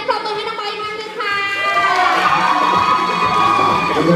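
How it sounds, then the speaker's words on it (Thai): A crowd at a live concert cheers and shouts after a young performer, with children's voices among it. The cheering swells loudly and holds steady after a quieter opening. "เสียงปรบมือให้น้องไบค์มากเลยค่ะ"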